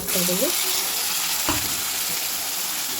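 Beans and tomato frying in oil give a loud, steady, close sizzle that runs throughout, broken by a single utensil knock partway through, with a brief tonal sound at the very start.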